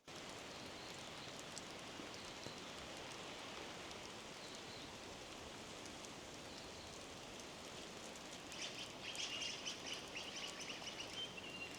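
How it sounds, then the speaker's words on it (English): Steady rain falls at a bush camp at Native Dog Flat, a dense, even hiss of drops on surfaces that holds throughout and swells slightly near the end, with faint bird calls in the background. "it has just not stopped raining"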